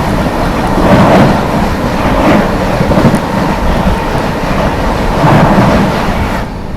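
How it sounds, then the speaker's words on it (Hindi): The Anand Vihar Terminal–Puri Purushottam Express passes close by at night, a steady loud rumble of rolling wagons with rhythmic clatter swelling and easing for several seconds, no voices. "अब सामने से आती हुई आनंद विहार टर्मिनल पुरी पुरुषोत्तम"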